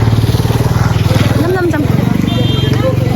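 A motorcycle approaches, its engine puttering loudly nearby with a rapid, pulsing throb while people talk over it.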